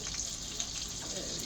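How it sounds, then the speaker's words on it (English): Chicken pieces frying in a pan for lemon chicken give off a steady, soft hiss of sizzling oil, faint and continuous throughout. "I'm gonna start frying up my chicken"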